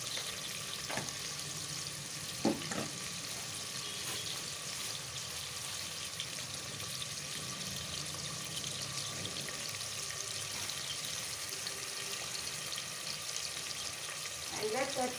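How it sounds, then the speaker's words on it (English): Sliced onions fry with salt in a pan, giving a steady close sizzle and crackle that runs the whole time, with a few light clinks of stirring and faint talk in the background. "And now to speeden up the frying, I'll put in about 1 teaspoon of salt to taste."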